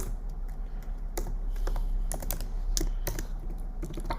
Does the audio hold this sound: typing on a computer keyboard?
yes